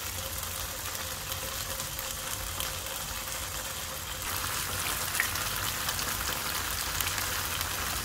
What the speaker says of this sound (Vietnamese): Mình chiên cho cái mặt nó ráo lại để khi mình trộn nó không có bị bể các bạn.